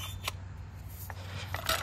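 Weed puller blades cutting through weed leaves outdoors, giving a few sharp, brief snips spread over a steady low background hum.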